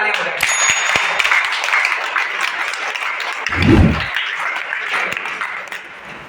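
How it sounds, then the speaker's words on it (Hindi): Seminar audience at a motivational business meeting clapping hands together in a dense, sustained wash of applause, steady throughout with a low thump midway, crowd noise and voices mixed in. "अपने हाथों से जोरदार तालियां बजाएंगे"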